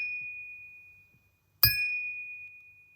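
A glass candlestick struck with a single tap rings out in a clear, high ping that sustains and slowly fades, close and alone after a faint earlier ringing tone.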